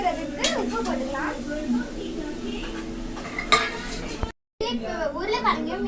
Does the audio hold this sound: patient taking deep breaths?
no